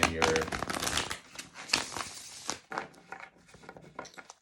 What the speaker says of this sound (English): I'll shuffle them a little bit more. One last shuffle and we'll start.